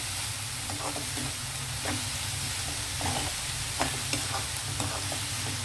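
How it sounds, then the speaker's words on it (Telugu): Amaranth leaves and potato stirred in a frying pan, a continuous sizzle and hiss with repeated scraping strokes of a spatula at an even rhythm, close and alone. "ఇప్పుడు మనం తోటకూర వేసేద్దామండి. ఇప్పుడు దీన్ని బాగా కలిపేసి ఒకసారి"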